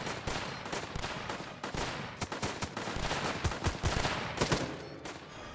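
Rapid gunfire in the WW2 zombie tower defense game Northend Tower Defense, including sniper rifle shots, a dense continuous stream of close, loud reports with sharper bursts throughout.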